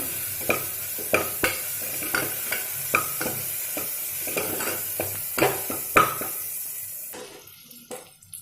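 Crab rasam ingredients sautéing in a pan, with a steady sizzle and a series of sharp spoon-against-pan stirring clacks at a regular rhythm, ending in quieter sizzling.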